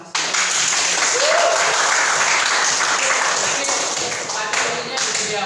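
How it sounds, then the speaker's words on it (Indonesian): A classroom audience breaks into applause, dense and steady clapping that continues evenly for about five seconds at a fairly loud level. "tepuk tangan untuk Mas"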